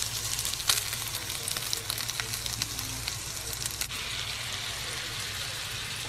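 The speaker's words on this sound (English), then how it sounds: "Sizzling." Steak sizzles steadily in butter in a hot pan, a continuous bright hiss with scattered pops and crackles, close and fairly loud.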